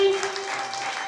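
A church congregation applauds in praise of God, a brief, steady wash of clapping heard alongside a held tone and some voices.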